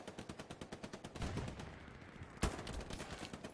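Rapid video-game gunfire from Hell Let Loose, faint and distant, a steady train of evenly spaced shots with a louder single crack partway through.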